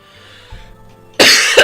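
A single sharp, loud cough close to the microphone, with a brief second burst just after, following a faint quiet background.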